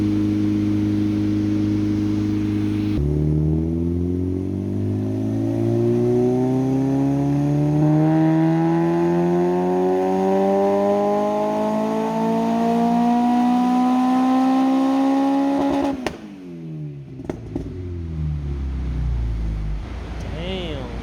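An Acura RSX revs hard on a dyno during a power tuning session, its engine pitch climbing steadily for about thirteen seconds before cutting off sharply, then settling back to a lower drone; loud and close throughout.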